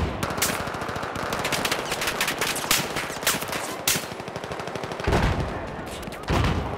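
Rapid bursts of machine-gun fire rattle through a Battlefield 5 reveal trailer, dense and continuous with heavier booming shots breaking in near the end.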